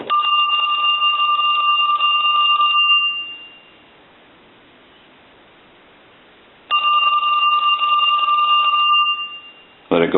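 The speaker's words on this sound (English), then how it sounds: "but first I want to ring it." A Western Electric Trimline telephone rings loudly and close in two long bursts of bright electronic trilling, separated by a few seconds of near silence.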